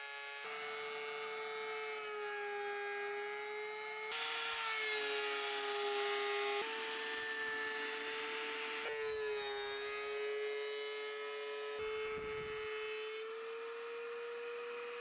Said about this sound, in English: I run the part through a planer to take a thin layer off to make him look clean.